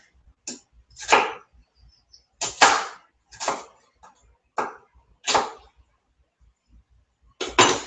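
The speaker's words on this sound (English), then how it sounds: "All right, chopping up my onions, throwing that in." Onions being chopped on a cutting board for a stew, a string of sharp, close knife strikes falling in uneven bursts with quiet gaps between them.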